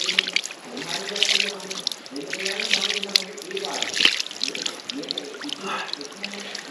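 Ice-cold mountain water runs from a tap beside a hillside path, a steady splashing trickle heard close up beneath someone talking.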